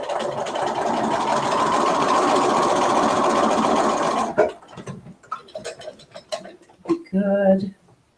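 A sewing machine stitching a quarter-inch seam on a doll dress, a steady rapid mechanical whir running for about four seconds, then it stops and someone speaks in short bursts.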